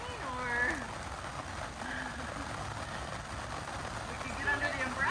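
Steady rain falls on an outdoor yoga class in a botanic garden, a dense continuous patter under intermittent voices.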